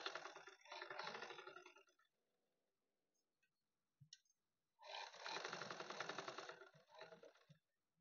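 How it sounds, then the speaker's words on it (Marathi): A sewing machine runs in two bursts of rapid, even stitching while a katori blouse is tacked together with a loose basting seam. Each burst is close and steady, separated by a quiet pause with a few soft handling clicks. "त्याच्यानंतर आपल्याला इथून कच्ची शिलाई करून घ्यायची आहे"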